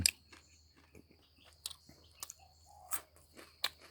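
Close, crisp chewing of crunchy deep-fried food, with irregular crackling bites and crunches spaced through a quiet background.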